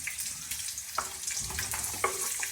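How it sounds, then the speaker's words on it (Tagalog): Onions sautéing for chicken sotanghon in a home kitchen give a steady frying sizzle, with a few sharp clinks and scrapes of utensils against the pan partway through. "So, magigisa lang si mami ng sibuyas."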